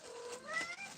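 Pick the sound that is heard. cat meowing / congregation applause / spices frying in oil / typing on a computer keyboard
cat meowing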